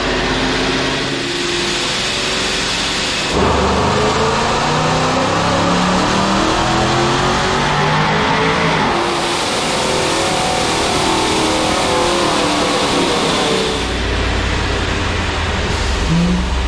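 A ProCharged, cammed 5.7 Hemi R/T engine screams through a sustained dyno pull, loud and close. Its rising supercharged whine climbs in stages, then a lower rumble takes over near the end.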